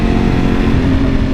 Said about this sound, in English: if you listen this bike sound, it sounds amazing. It will be like raw power sound